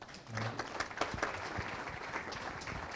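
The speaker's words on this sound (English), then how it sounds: "let's give her a round of applause" Audience applause fills a club meeting room, a steady wash of many hands clapping that holds at an even level throughout with no voices over it.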